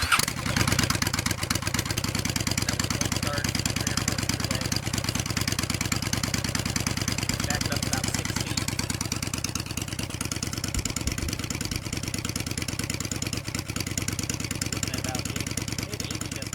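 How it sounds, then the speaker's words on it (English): A motorcycle fitted with TJ Brutal Customs high-low drag pipes with 8-inch baffles installed idles steadily and loudly close by, a continuous throbbing exhaust note running the whole time with little change. "this is TJ Brutal Customs, high-low drag pipes, 8-inch baffles installed"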